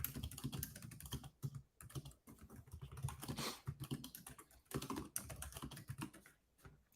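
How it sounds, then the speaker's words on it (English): Fast, furious typing on a computer keyboard, close and fairly loud, with rapid clustered keystrokes in bursts separated by brief pauses. "You're furiously typing."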